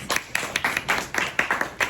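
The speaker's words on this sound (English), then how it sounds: "Give yourselves a round of applause." A small group of people clapping in a classroom-style setting, a brief burst of separate, uneven claps heard close and fairly loud.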